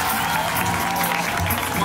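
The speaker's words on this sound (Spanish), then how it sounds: "¡Fuerte aplauso para mi animalia!" Brief burst of dense applause and crowd cheering inside a Horrorland video game, steady and moderately loud throughout under a moment of commotion.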